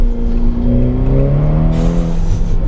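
Ferrari Portofino engine downshifting into second on a tight, twisty road, loud and close, the exhaust note sweeping in pitch through the shift with a steady mechanical growl.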